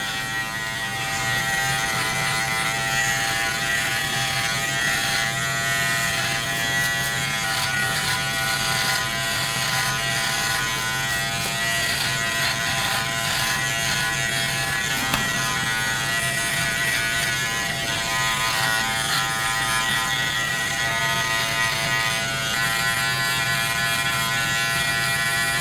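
Manscaped Lawn Mower 5.0 Pro Ultra trimmer, bare trimmer blade with no comb, buzzing steadily through chest hair, a loud continuous electric hum held close for the whole stretch with no talking.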